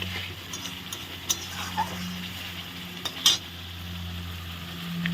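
Spices being stir-fried in a pan for a spicy eggplant curry give a steady low sizzle, with a few scattered scraping clicks from the stirring utensil against the pan.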